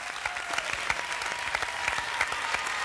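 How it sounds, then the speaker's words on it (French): A studio audience on a televised French singing-contest show claps steadily for a young performer, a dense, even patter of many hands that carries on without a break from start to finish. "Juliette, sous vos applaudissements."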